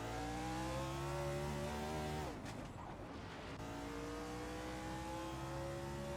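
Race car engines roar in a racing video game at Talladega, loud and continuous with rising, shifting engine pitches, a brief rushing pass in the middle, then engines climbing again.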